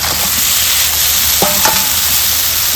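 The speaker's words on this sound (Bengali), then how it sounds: "দিয়ে আবার ভালো করে একটু কষাবো যাতে মশলাটা কাঁকড়ার ভিতরে একটু ঢুকে যায়" Fried potatoes and crab stirred through spice paste in a hot pan, a loud continuous sizzle with a couple of brief scraping strokes, no speech.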